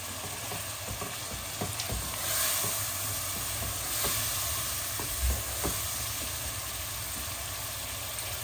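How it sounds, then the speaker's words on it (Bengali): Vegetable stock poured into a chicken breast, cauliflower and potato curry in a hot pan, a steady close hiss and sizzle with a few faint clicks of stirring, no one talking. "আর আমি এই ভেজিটেবল স্টকটা দিয়ে দিচ্ছি"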